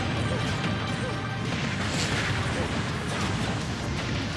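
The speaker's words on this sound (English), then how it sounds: "look at the subspace bombs" Subspace bombs from Super Smash Bros. Ultimate detonating amid chaotic battle noise, a thick, sustained roar of overlapping blasts and crashes, loud and unbroken for several seconds.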